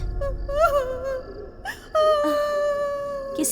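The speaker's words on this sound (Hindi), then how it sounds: "किसी के रोने की आवाज आ रही है लगता है" Someone wails and whimpers in long, wavering moaning cries that rise and trail off, moderately faint with a low rumble beneath, in a dark, eerie setting.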